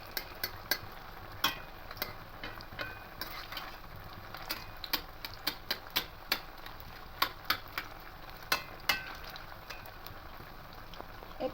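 Semolina and potato snacks frying in hot oil, a steady soft sizzle with scattered sharp crackles and pops throughout, close up with no talking.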